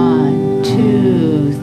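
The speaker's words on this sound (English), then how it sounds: "Strumming down." A single downward strum on an acoustic guitar rings out and sustains, a bright chord with a second lighter stroke near the end, close and clear.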